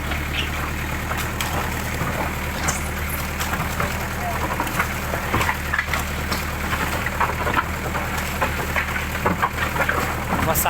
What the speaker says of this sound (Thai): คือฝนตกนะครับ ก็ทำให้ การทำงานนี่ลำบากหน่อยนะครับ ฝนตกนะครับ